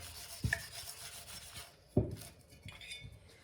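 Sandpaper rubs the bottom edge of an epoxy-coated tumbler, producing faint, quiet scraping strokes punctuated by a couple of sharp knocks.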